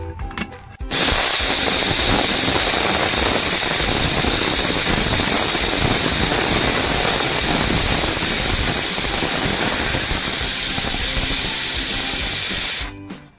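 A pressure cooker on a gas stove making sweet kharvas, letting out a loud, sustained whistling hiss of escaping steam that starts abruptly and roars steadily for about twelve seconds before cutting off.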